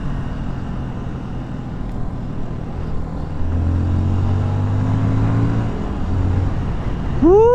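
Busy road traffic with many vehicles and motorcycles, a steady rumbling wash of engines with one engine rising in pitch nearby and a brief squealing sweep near the end.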